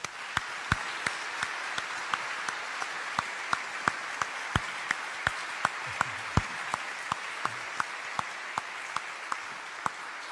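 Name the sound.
audience clapping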